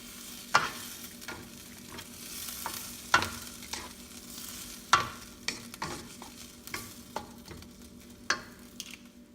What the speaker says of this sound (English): we'll add our brown sugar. Let's give it a stir.